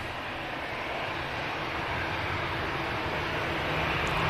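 An EasyJet airliner at Manchester Airport gives off a steady, broad engine roar that holds level and swells slightly toward the end, with no talking over it.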